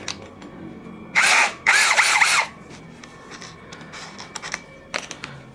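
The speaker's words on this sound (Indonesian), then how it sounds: "Berarti sekarang tinggal pengeboran ya pada beton ya." A DongCheng DCJZ2060i hammer drill with a 13 mm bit bores into concrete in two loud, grinding bursts with a high squeal and a short gap between them. Scattered clicks and handling knocks follow.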